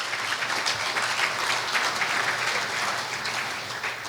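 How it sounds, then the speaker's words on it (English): A gala audience at a New Year's event applauds a calypsonian, with a steady, even wash of many hands clapping that carries on unbroken and fairly loud throughout. "Give Rock a round of applause."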